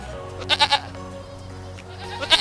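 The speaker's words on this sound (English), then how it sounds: "Goat, kid." A goat bleats in a quick burst of three wavering cries, then again near the end, fairly close over soft background music.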